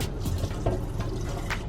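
Hot water drained from a pot of boiled eggs into a sink, a continuous close splashing gush with small irregular bursts of spatter throughout.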